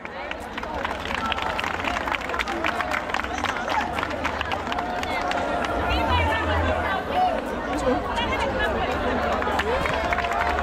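A crowd at a school back-to-school session in Sierra Leone applauds steadily throughout, with clapping blended into a busy hubbub of voices and chatter.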